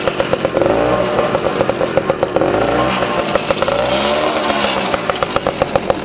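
A 1985 Safari Turbo moped, a barn find on its first start, runs loud and close through its exhaust pipe, a buzzy two-stroke drone with rising and falling revs and rhythmic popping.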